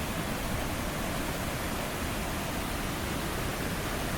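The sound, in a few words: water rushing over a spillway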